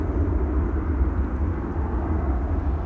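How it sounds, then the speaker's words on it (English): A KLM airliner on arrival approach at Amsterdam Schiphol, heard as a steady, loud low engine rumble that holds evenly throughout with no voices. "That's KLM flight 1850 arriving from Munich."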